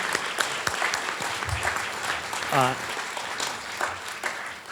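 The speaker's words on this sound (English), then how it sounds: "I wanted to acknowledge him and give him a round of applause" Audience applause at an alumni awards ceremony, a broad crowd clapping for a retiring accounting professor, steady throughout, with a brief voice rising over the clapping partway through.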